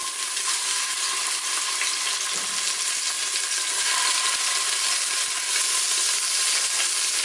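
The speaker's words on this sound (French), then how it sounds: "Faites saisir rapidement la viande à feu vif dans une cocotte minute et avec un petit peu d'huile d'olive." Beef searing in a little olive oil in a pressure cooker over high heat for beef bourguignon: a steady, bright sizzle throughout, close and fairly loud, with a faint scrape or two.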